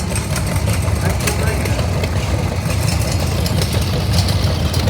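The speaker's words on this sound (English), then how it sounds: "John Deere 620" A 1956 John Deere 620 tractor at an antique engine show idles with a steady, low, rough engine rumble that continues throughout.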